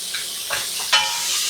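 Food sizzles and crackles in a hot non-stick pan, a constant bright hiss with a few scraping stirs and one sharper pop midway.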